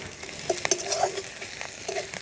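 Pointed gourd and prawns sizzle and crackle in hot oil in a village home kitchen, with close stirring clinks and soft spattering bursts over a steady fry hiss.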